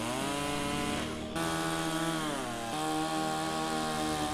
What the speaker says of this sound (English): the mangrove with the chainsaw, then to burn them